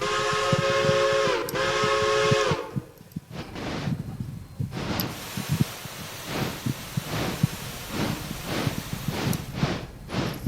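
The standard steam whistle of a Pennsylvania A5s 0-4-0 locomotive in a train game gives two short loud blasts, followed by rhythmic chuffing and the clank of the engine getting under way.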